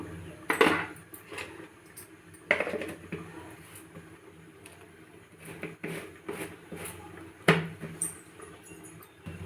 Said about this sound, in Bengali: এবার ঢাকনাটা ঢাকিয়ে দেবো